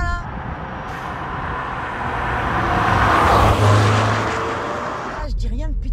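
A Peugeot 405 T16 drives with its engine droning loudly and steadily. The engine note swells to a peak in the middle and settles again, and a short sharp sound lands near the end.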